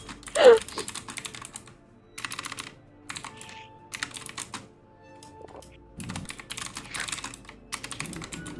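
Quick bursts of computer keyboard typing come in irregular clusters, close and fairly quiet, broken by short pauses with a faint voice-like sound near the start.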